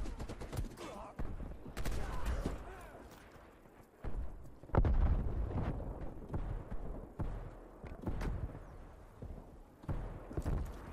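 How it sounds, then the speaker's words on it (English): Gunfire in Call of Duty Black Ops Cold War online play, including enemy sniper rifle fire, sharp scattered shots amid a busy battlefield, with a louder crack near the middle. "Enemy sniper working."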